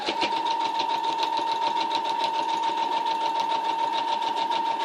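A sewing machine stitching a pocket bow runs in one continuous, even, rapid mechanical whir with a steady pulsing rhythm, close and fairly loud, with no talking.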